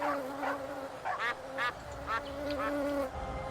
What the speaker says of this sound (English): What a hospitable noise for your front door. Bugs. Buzzing.